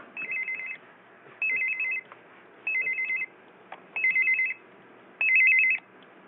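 An L.T.E ST-37V hospital telephone rings on high volume, five short electronic trilling bursts evenly spaced and clear against a quiet room.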